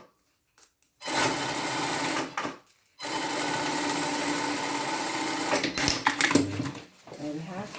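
A sewing machine stitches black elastic onto a garment sleeve, running in two steady bursts of close, continuous whirring with a short pause between, then slowing with a few handling noises at the end.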